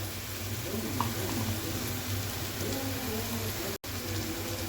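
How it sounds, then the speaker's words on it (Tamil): Cooked chicken pieces go into a tomato-onion paste frying in oil for chicken gravy, and a steady, close sizzle and crackle fills the whole stretch. "I'm adding chicken pieces, already cooked pieces."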